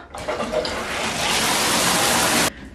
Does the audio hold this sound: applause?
no